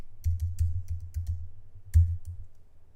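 Someone types on a computer keyboard with quick, close key clicks in an irregular rhythm over a low background hum.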